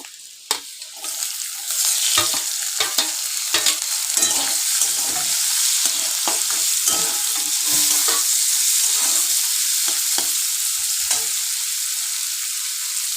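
Chopped garlic and onion frying and being stirred in a pan for a Bengali yogurt okra dish, a steady close sizzle with repeated scraping stirs running throughout, no voices.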